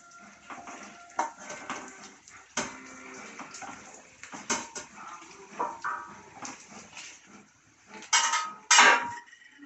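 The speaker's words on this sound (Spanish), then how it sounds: "Vamos a echarle las albóndigas que teníamos apartadas de antes." Meatballs go into a cooking pan with soft thuds and clinks of utensil against metal, scattered irregular knocks and scrapes that rise to a louder clatter near the end.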